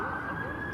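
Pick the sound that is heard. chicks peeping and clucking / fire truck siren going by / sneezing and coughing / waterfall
fire truck siren going by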